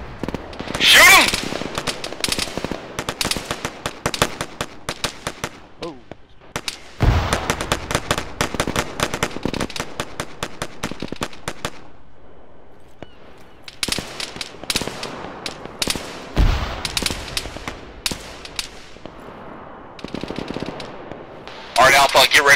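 Gunfire in an Arma 3 forest firefight comes as bursts of rapid machine-gun fire and single loud shots, some close and some distant, with quiet gaps between volleys and people talking over parts of it.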